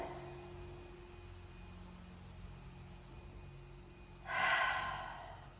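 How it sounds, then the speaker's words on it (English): A long deep breath during yoga practice, one soft audible inhale or exhale near the end after a quiet stretch, close and fairly gentle. "Take a few deep breaths here."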